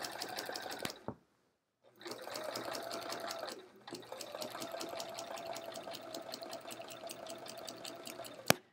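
A sewing machine stitches a quilt with metallic thread, running in a fast steady mechanical patter close by. The run stops for a brief silent pause near the start, then resumes and continues to the end.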